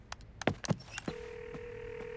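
A telephone is dialed in a French animated children's cartoon: a quick series of distinct key tones, then a steady, unbroken dial tone holding to the end.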